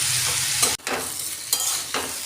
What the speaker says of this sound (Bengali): কপি আলু ভাজাটা গ্যাসটা কমিয়ে দিয়ে দিয়ে করে নিয়েছি